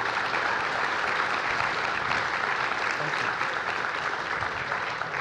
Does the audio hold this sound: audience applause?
yes